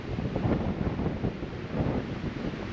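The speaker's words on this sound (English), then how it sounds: "It's really windy." Strong wind buffeting the microphone outdoors in Arizona, a constant low roar that swells and eases in gusts, loud and unbroken.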